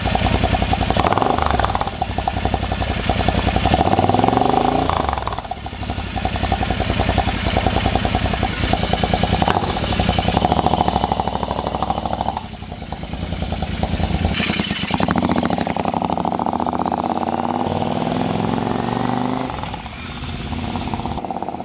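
A Royal Enfield motorcycle fitted with an aftermarket baffled muffler revs repeatedly, its deep throaty exhaust rising and falling in several surges over a steady idle, close and loud.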